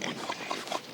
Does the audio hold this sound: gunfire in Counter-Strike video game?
no